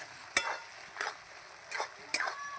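A spoon stirs meat in a cooking pot in four separate scraping strokes, each with a bright metallic clink over a soft sizzle, close and fairly quiet.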